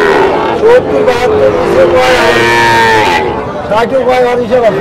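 Cattle, including heifers, low and bellow amid a busy crowd at the Chandaikona cattle market in Sirajganj, Bangladesh, with people talking over and between the animal calls.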